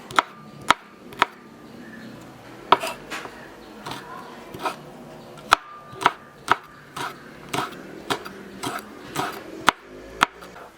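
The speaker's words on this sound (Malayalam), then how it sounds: "ഒരു 4 പച്ചമുളക് നമുക്ക് ഈ കാണുന്ന പോലെ അരിഞ്ഞെടുക്കാം." Four green chillies being chopped with a knife for a fish curry: a run of sharp, close knife strikes at an uneven pace, with short bursts and brief pauses between them, and no talking.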